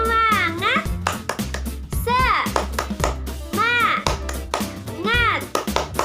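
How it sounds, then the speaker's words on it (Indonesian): A class of fourth-grade children chants in unison while doing a rhythmic spirit clap, with loud patterned hand claps between sung phrases in a classroom. "sebelumnya tepuk semangat dulu."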